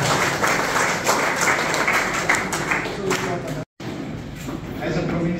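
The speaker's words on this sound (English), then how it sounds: "Please clap your best wishes for the next year." An audience at a Jesuit province assembly claps continuously in loud, dense applause that cuts out briefly near the end before resuming; a voice speaks faintly through it.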